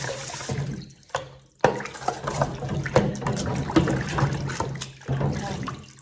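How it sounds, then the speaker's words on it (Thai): Water runs and splashes while food scraps are rinsed off dishes in a sink. The flow is close and uneven, with brief pauses and clinks. "ล้างน้ำน้ำใส่ล้างเศษอาหารออกแล้วนะคะ"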